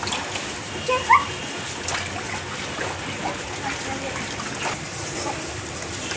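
A child splashes water in a small swimming pool with a few soft, scattered splashes under a steady wash of background noise, and a voice talks faintly nearby.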